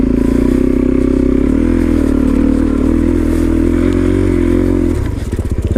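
A Suzuki DRZ400SM supermoto's single-cylinder engine drones loud and close as it rides, the pitch shifting slightly with throttle before easing off near the end, accompanied by rattling and scraping noises.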